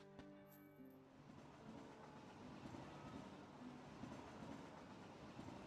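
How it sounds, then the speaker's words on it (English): Train rolling past in the Kingdom Hearts 2 video game, a steady loud rumble with rhythmic clatter lasting throughout, following a brief tonal chime at the start. "let's just all stop talking because the train is passing by."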